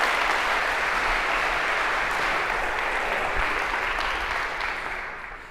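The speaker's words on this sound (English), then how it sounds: "A round of applause for our volunteers." A lecture-hall audience applauds volunteers called up on stage, a dense, steady wash of clapping that holds strong and then tapers slightly at the end, no talk over it.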